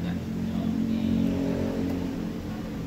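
A Yamaha F1ZR two-stroke motorcycle engine revs steadily close up through a carbon exhaust, a continuous dense drone with no break.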